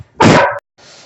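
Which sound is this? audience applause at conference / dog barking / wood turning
dog barking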